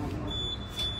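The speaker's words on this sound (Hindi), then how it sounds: "जैसे हमने उसके पास धुआं पहुंचाया ये ऑपरेट हो गया और आप देख सकते हैं ये फायर अलार्म दोबारा से ऑटोमेटिकली वे में ये चालू हो गया है" Smoke detector on an apartment fire alarm system going off after smoke reaches it, a thin steady high electronic tone sounding over a low background rumble, with no talking.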